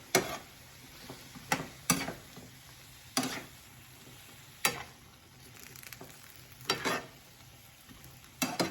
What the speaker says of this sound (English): Now I'm going to cook tomato with the dates.